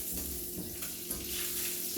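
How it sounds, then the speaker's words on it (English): Bacon browning in a pan before cabbage goes in, giving a continuous dense sizzle that holds steady and close for a couple of seconds with no talking. "You want to make sure this bacon is as brown as you can get it before you put your cabbage in there."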